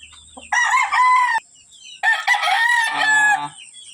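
A gamecock rooster crows loudly and close by in two strained calls, the second ending in a rough warble, with brief quiet between them.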